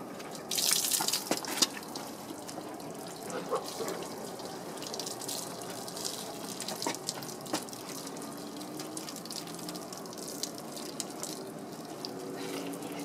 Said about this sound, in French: Il faut penser à chaque fois de rincer votre gant pour enlever tout ce qui est contaminant sur la carrosserie.